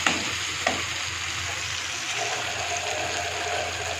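Spices fry with tomatoes, green chillies and salt in a pan, giving a dense, continuous sizzle close up, with a couple of soft knocks near the start.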